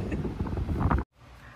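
Broadband wind rumble buffets the microphone steadily, then cuts out abruptly for a moment before a softer gusty hiss returns.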